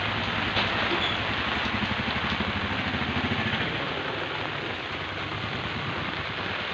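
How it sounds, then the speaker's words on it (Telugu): Steady rain pours down outdoors on a rainy day, a dense, even hiss with a faint low engine-like rumble underneath, continuous and fairly loud throughout without any talking. "వర్షం పడుతుంది."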